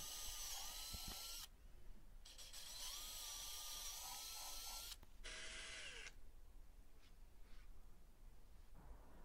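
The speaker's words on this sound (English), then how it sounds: "I then drilled three drainage holes in the bottom of the box." A power drill whines through several bursts while boring drainage holes in the bottom of a wooden blue tit nest box made from scrap wood. The bursts are broken by brief pauses, and the sound is faint and close.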